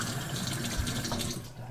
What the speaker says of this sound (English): And you're gonna take it and fill it up to the line, that top line.